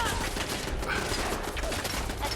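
A machine gun turret fires in Fallout 4, a rapid, sustained burst of gunfire that stays loud and continuous with a sharp rattle throughout.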